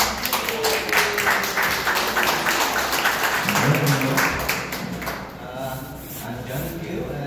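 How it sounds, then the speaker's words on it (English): Applause from an audience at a volunteer concert at a senior center rings out for the young performers, a dense, steady patter of hands that swells and then begins to thin toward the end. "So let's give them a big round of applause."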